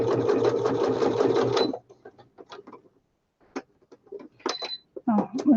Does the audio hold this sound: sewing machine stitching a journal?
yes